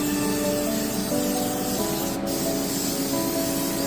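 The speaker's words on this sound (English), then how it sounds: "you just want to grease or spray all the corners and the sides of this pan like this" Canola oil cooking spray hisses steadily from the can while greasing the corners and sides of a baking pan for dinner rolls, a close, continuous spray with a brief pause.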